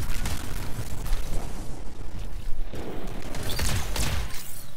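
Repeated booming explosions and crackling bursts from the video game Anthem, loud and close, rolling one after another with no talk.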